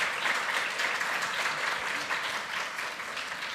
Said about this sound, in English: the panelists deserve a very, very hot round of applause